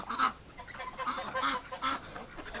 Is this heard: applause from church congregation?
no